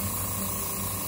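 Steady, continuous hiss of an airbrush spraying leather dye, even and unbroken throughout, fairly close.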